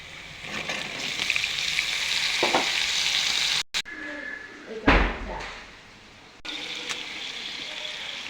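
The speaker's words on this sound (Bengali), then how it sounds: "এইবারে পেঁয়াজটা বাদামি হয়েছে, এবারে ক্যাপসিকাম দেবো" Capsicum and browned onions frying in a pan for chicken chilli, giving a steady loud sizzle with stirring scrapes, interrupted by a brief cut and a couple of knocks before the sizzling resumes.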